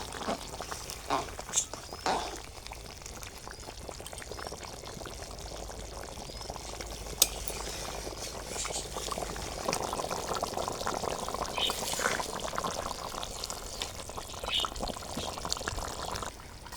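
Country chicken curry, a thin gravy with new potatoes, simmers after roasted cumin powder is stirred in, giving a steady close bubbling and liquid gurgle with occasional clinks, continuous throughout.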